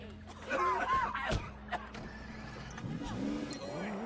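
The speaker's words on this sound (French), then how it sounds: "Oula, mais elle va pas très bien la voiture là." Rough, sputtering engine of a badly damaged car in Sleeping Dogs, droning steadily through the clip with a French-speaking voice talking over it.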